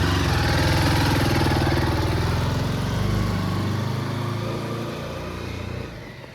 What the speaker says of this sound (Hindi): अभी करते हैं कोल्ड स्टार्ट, निकलते हैं।